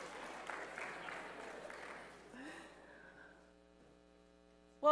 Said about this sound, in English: You can clap. You can be excited.